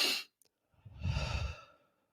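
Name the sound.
deep breath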